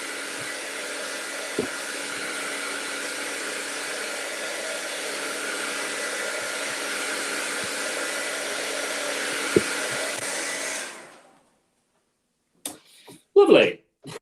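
A hair dryer blows on wet paint of a potato-printed whale, a steady loud broadband whoosh running for about eleven seconds before cutting off, followed by a few brief knocks and a short voice.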